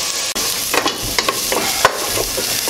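Carrots and other vegetables sautéing in a pan for a vegetable stew, a close, steady sizzle broken by a few scraping stirs of a utensil against the pan.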